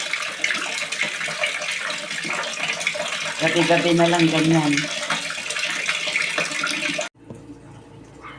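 Water runs from a household tap once water service comes back, a steady broadband gush with a brief louder splashing stretch before it cuts off, while people talk over it.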